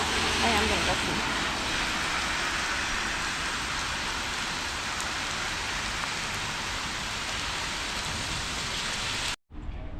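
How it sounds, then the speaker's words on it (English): Heavy rain pours steadily on a walk near the road at Indiana Dunes, a dense, loud hiss filling the scene without pause before cutting off abruptly near the end. "it's raining harder and harder"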